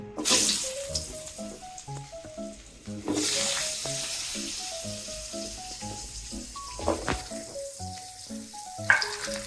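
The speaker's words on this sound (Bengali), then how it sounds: "আমি এক এক করে আলু আর ফুলকপিগুলো ভেজে নিচ্ছি।" Oil sizzles and crackles steadily as potato and cauliflower pieces fry in a pan, with bursts of louder spitting and some clinking and stirring over a melodic background tone.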